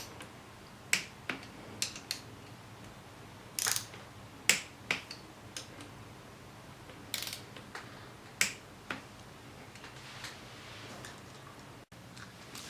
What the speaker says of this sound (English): We're going to take a torque wrench and we're just going to torque these to the proper specs